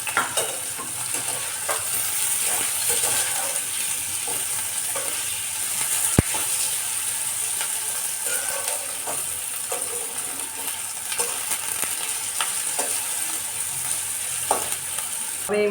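Green chillies, potatoes and curry leaves hit hot oil with popped mustard seeds in a pan, frying with a continuous close sizzle broken by scraping stirs and an occasional sharp clink of the spoon.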